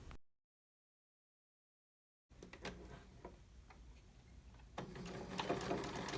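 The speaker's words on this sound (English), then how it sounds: "we'll start by making a 1/4 inch seam" A sewing machine stitching a quarter inch seam on a garment for a French seam, with a fast, steady mechanical whir and ticking that starts after a silent gap and gets a little louder toward the end.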